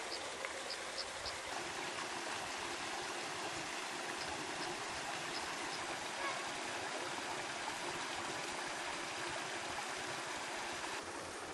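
Water flows in a stream through a desert park in the Arava, a steady close trickle and rush that continues without pause, with faint insect chirps now and then above it.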